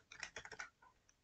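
A quick burst of about eight keystrokes on a computer keyboard, close and crisp, then two softer taps, with no talking.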